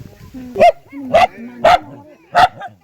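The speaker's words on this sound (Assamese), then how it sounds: "কুকুৰে মাত দি আছে" A dog barks four times in sharp, evenly spaced bursts, close and loud, with faint whining between barks.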